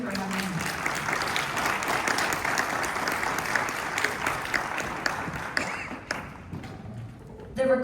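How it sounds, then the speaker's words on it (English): An audience applauds loudly for several seconds with voices mixed in, then the clapping tapers off into scattered claps. "You guys, let's give Trina another round of applause."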